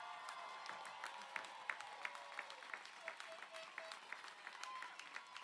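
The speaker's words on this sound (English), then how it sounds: "Stand and give our graduates a round of applause" Applause for graduates at the Central State University 2022 commencement, a steady wash of many hands clapping at moderate distance with scattered sharper claps and faint crowd noise.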